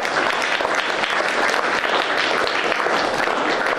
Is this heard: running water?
no